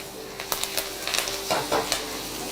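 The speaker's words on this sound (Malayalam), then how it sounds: "ഇനി ഇതിലേക്ക് ഇഞ്ചി അരിഞ്ഞത് ചേർക്കും." Chopped ginger sizzles in a frying pan while fish mulakushyam is being cooked, giving a steady, close frying hiss broken by several sharp scrapes and clinks of stirring.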